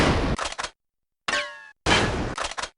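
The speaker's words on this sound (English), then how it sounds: "But then some louder gunshots pop off" Gunshots ring out in Final Fantasy VIII: two loud bursts of rapid shots, each ending in a few separate cracks, with a brief ringing metallic tone in the silent gap between them.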